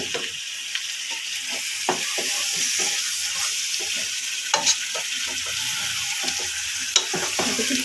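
Meat frying in a pan, a dense continuous hiss of sizzling fat with scattered scrapes and light knocks as it is gently stirred and mixed.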